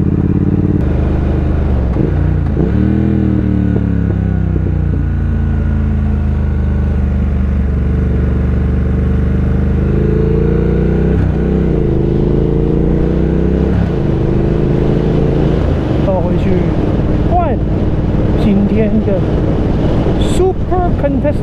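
A Ducati Streetfighter V4S motorcycle engine runs loud and close, its pitch rising and falling in sweeping revs against steady wind noise, with a sharper burst toward the end.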